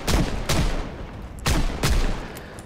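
A revolver fires four sharp, loud shots in Project Zomboid, arriving in two quick pairs with short gaps between them. Each crack stands alone, with no talk over it.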